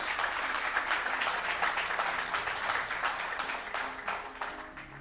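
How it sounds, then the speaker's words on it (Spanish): A church congregation claps together during a sermon, a continuous, moderately loud patter of many hands that keeps an even density before tapering off at the close. "Dale ese aplauso al Señor con ganas."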